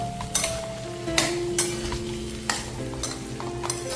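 A spiced farali vegetable dish with black pepper is stirred in a pan over a soft sizzle, with several crisp spoon scrapes and clinks against the metal at an uneven rhythm.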